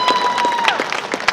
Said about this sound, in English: Y'all can applaud that.